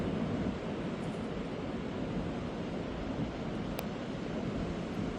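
Steady wind and breaking surf on a quiet stretch of beach, a dense continuous wash of noise at moderate level with no voices or other sounds.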